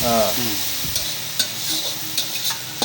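Kasuri methi frying in oil for egg rice, a steady broadband sizzle with occasional stirring scrapes and clicks, moderately loud and close, with no talk.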